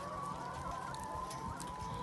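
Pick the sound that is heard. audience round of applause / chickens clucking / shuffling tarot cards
chickens clucking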